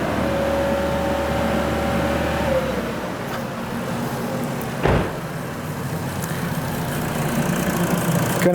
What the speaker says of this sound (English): so I got to go back in the car, raise up the RPM again